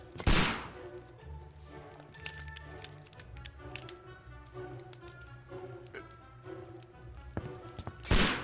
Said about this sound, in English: Why are you shooting at me, Sherlock Holmes?